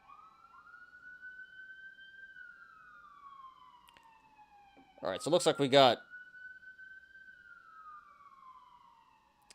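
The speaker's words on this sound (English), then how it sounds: "And here's the first siren of the day" An emergency vehicle siren passes outside, a steady rising and falling wail running through the whole stretch, moderately loud, with someone talking over it and a brief burst of louder clatter in the middle.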